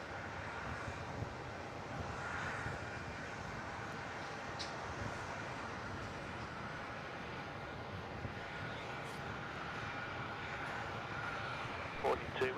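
An Air India jet departing Melbourne Airport, heard as a distant, steady low engine roar mixed with wind noise, with occasional faint voices nearby.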